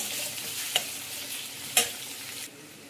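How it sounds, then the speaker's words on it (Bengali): Onions frying in a pan until lightly browned, with a steady high sizzle and two sharp scrapes of a spoon against the metal, the frying hiss fading near the end. "এই পেঁয়াজটাকে একটু হালকা লাল লাল করে নেব"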